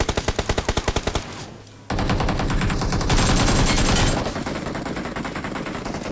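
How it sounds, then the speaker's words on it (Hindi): Video-game gunfire near a squad house: a rapid burst of evenly spaced automatic shots, a short pause, then a dense, loud sustained volley of fire that stays close and continuous. "फायरिंग की साउंड आ रही थी स्क्वाड हाउस की तरफ से"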